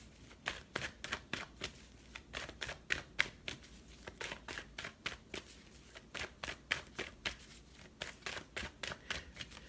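A tarot deck is shuffled rapidly and repeatedly close by, a steady rhythm of crisp riffling card flutters with brief pauses between bursts.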